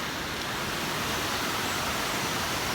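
Water crashes down from a nearby dam at a roadside, a steady dense roar of rushing spray filling the whole moment with no break, loud and close.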